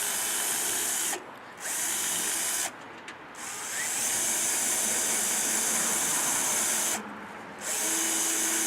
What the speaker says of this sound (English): You can see it's gone through and drilled through everything